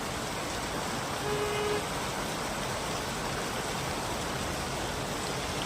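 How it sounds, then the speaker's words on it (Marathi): Heavy first monsoon rain falls outdoors, a steady, even wash of broadband hiss with no pauses, heard from a moderate distance. "पाऊस मोठा पडतोय आता बऱ्यापैकी"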